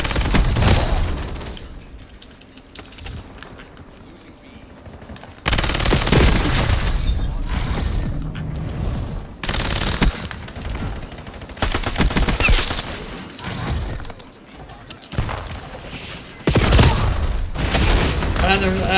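Video game gunfire in Black Ops 7 on the Nuketown map, loud bursts of automatic fire in repeated stretches separated by quieter gaps, with voices talking intermittently.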